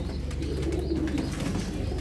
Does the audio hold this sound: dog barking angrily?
no